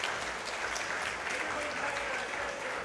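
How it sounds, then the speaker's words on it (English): Steady applause from a crowd fills the clip, dense clapping throughout at a moderate distance. "Ooh, for the applause."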